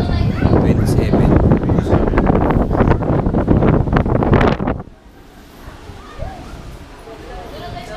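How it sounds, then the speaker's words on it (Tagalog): Strong wind at a windmill farm in Pililla, Rizal buffets the microphone in loud, roaring gusts mixed with voices, then drops away abruptly to a faint, quiet background for the last few seconds. "malakas pala yung hangin dito"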